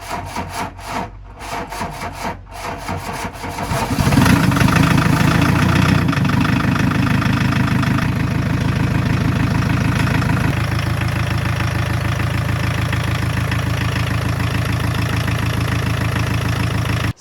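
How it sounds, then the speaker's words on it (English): Mk2 VW Golf diesel engine after a service, starting up with a rough, clattery burst before settling into a loud, steady idle that continues to the end, heard close up with no talking. "we serviced the engine and we've got it running sweetly"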